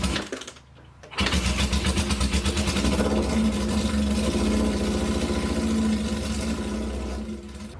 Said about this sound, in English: But the even bigger one is a new air compressor.